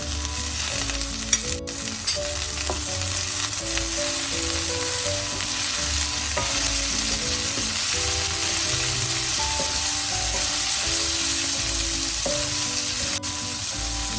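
Steady loud sizzling of onions frying in oil in a pan as boiled long beans are added, continuous crackle throughout with faint stirring and no voices.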